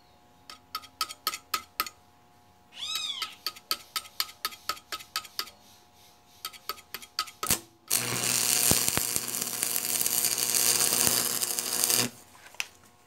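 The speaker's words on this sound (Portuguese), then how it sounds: "Vou soldar aqui agora, deixa eu mostrar aqui soldando" Welding on a homemade metal lathe: a string of sharp metallic clicks and clatter, then about four seconds of loud, steady crackling hiss from the weld, followed by a few more clicks.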